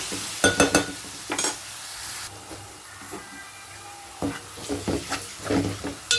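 Onions fry in a covered pan for Telugu chicken curry, a continuous sizzling hiss with bursts of spatula stirring and clatter near the start and again toward the end.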